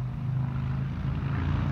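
A Dassault Falcon 900 tri-jet at an airport gives a steady low engine drone with a faint rumbling hum, fairly distant and unbroken throughout.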